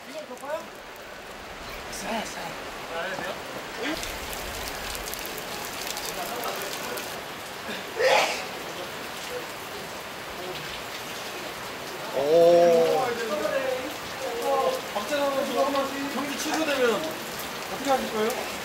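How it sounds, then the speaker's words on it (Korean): Heavy rain pours down steadily a couple of hours before a ball game, a constant close patter and hiss while people talk over it at moments. "지난 6월 4일 경기를 2시간 앞두고 비가 쏟아지기 시작했다"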